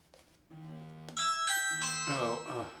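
A front-door doorbell chimes with bright, ringing harmonic tones, repeated several times and growing louder, loud and close in a quiet room.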